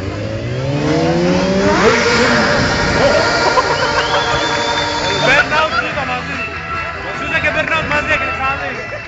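A tuned car doing a burnout at an Athens tuning show, its engine revving hard and holding a loud roar over crowd chatter, with a rising whine and surging bursts as the revs climb and fall.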